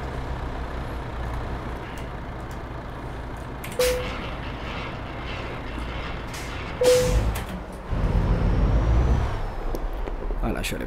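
A MAN Euro 6 truck in a driving-simulation game starting up and uncoupling its trailer, low diesel idle with two short hissing air-brake releases and a brief mechanical clunk, moderately loud and steady.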